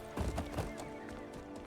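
Horse hooves in the Crimson Desert video game, a few quick close clip-clop beats in a short galloping burst, then a softer continuing rumble under game background sound.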